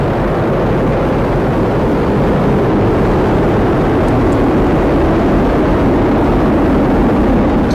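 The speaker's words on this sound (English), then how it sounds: "All 27 Merlin engines look great." A Falcon Heavy rocket's 27 Merlin engines roar during liftoff of the Europa Clipper mission, a loud, unbroken broadband rumble that holds steady from start to end with no voices.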